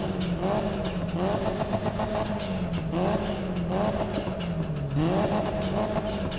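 A Nissan Silvia S15 in Need for Speed 2015, its engine revving repeatedly, pitch climbing and dropping over and over in rhythmic bursts, loud and close with a raspy exhaust tone.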